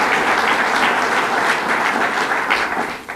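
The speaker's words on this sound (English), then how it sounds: "a round of applause" Applause from the audience at a governor's flood aid event, dense and even clapping held at a steady level throughout before easing slightly at the end.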